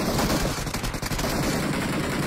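Gunfire in the PUBG video game, a dense, continuous crackle of rapid shots filling the whole moment, loud and close with no pause between bursts.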